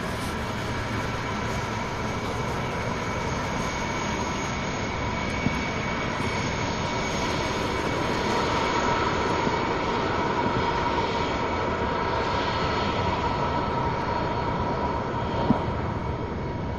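A jet airliner lands at Louisville International Airport, its steady broad engine roar loud and constant with a faint rising whine, with no voices.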